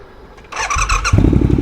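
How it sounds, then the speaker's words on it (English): A Triumph Thruxton RS motorcycle starts with the clutch in: a brief starter whine, then the engine catches and settles into a loud, close, throbbing idle. "on a Triumph, you've got to start with the clutch in. Let's give it a go."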